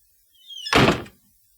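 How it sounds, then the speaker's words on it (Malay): A door in a building slams shut. A brief rising whoosh leads into one solid, heavy thud that dies away quickly, heard alone in an otherwise quiet room. "saya dengar bunyi pintu kena hempas pula tau"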